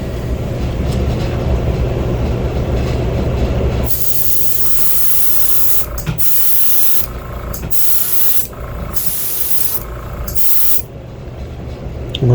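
Airbrush spraying fluorescent red paint onto a crawfish fishing lure, a loud continuous hiss that starts partway through, then breaks into several short bursts separated by pauses.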